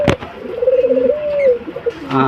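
Pigeons coo in a bird shop at an old market, one close rolling coo rising and falling over about a second and a half, with faint shop noise and brief clatter around it.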